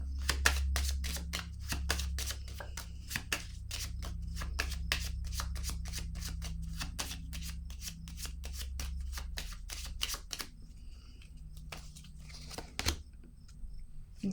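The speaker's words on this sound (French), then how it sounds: "Je vais piger une autre carte." Tarot cards being shuffled and drawn, a long rapid run of crisp riffling flicks close up, then a few quieter slides and taps at the end.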